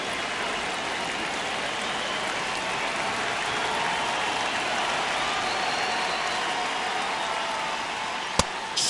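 A stadium crowd in a baseball video game cheers in a dense, continuous roar of hissing noise, steady and loud throughout, with a faint click near the end and no clear talking.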